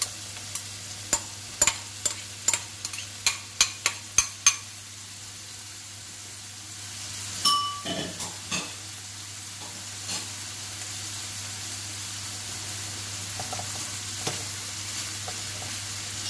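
Leeks added to a pan over lowered heat for stuffed potatoes: a quick run of about ten close utensil knocks against the pan, then a soft, steady sizzle with occasional stirring scrapes over a constant low hum.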